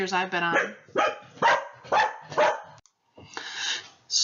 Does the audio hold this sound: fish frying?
no